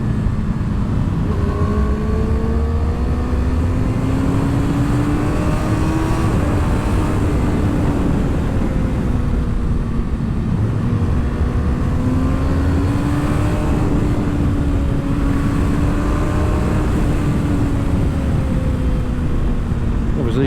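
A 2020 Kawasaki ZX-6R sport motorcycle engine drones steadily at speed on a country road, its pitch rising and falling as the rider accelerates and eases off, with wind noise throughout.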